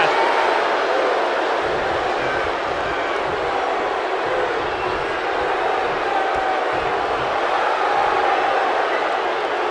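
A raucous wrestling crowd in a Philadelphia arena roars continuously, a loud dense wash of cheering and shouting that holds steady throughout.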